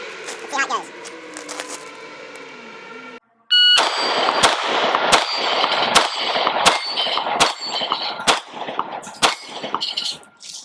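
A string of sharp, loud 9mm shots from a Sig P365 Gen 2 pistol, fired in a quick uneven rhythm on an outdoor range, each followed by a metallic ring as it hits a steel plate rack, after a stretch of talk.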